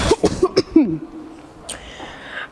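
A person coughs several times in quick succession, a close and loud run of hacking coughs, followed by a quieter stretch with faint background sound.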